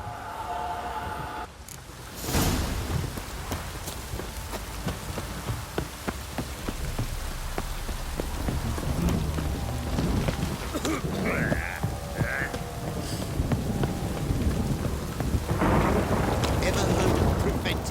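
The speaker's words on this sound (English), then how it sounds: "This downpour's a bastard, it is." Steady heavy rain pours throughout a stormy scene in The Witcher 3 video game, with a thunder crack near the start and rumbles rolling under the downpour.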